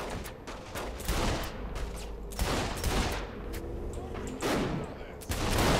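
Repeated bursts of gunfire in Saints Row The Third Remastered, sharp loud shots clustered in rapid volleys with short gaps, game ambience underneath and no talking.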